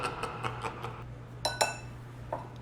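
Baking powder is stirred into donut batter in a bowl, giving a run of light, quick utensil clinks and taps against the bowl, fairly close and soft, with a low hum underneath.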